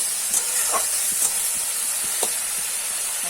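Cauliflower and potatoes sizzle in rohu fish oil, a constant bright hiss with a few soft stirring clicks, close up and without voices.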